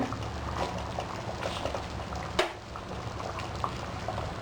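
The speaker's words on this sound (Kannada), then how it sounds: "ಇದು ಕುದೀತಾ ಇದೆ" Soya chunks curry with potatoes bubbling and simmering in a pan, a continuous soft boil with a small clink midway and no speech.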